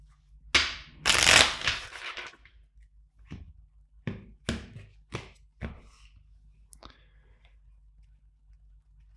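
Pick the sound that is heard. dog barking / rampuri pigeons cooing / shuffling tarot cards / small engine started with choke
shuffling tarot cards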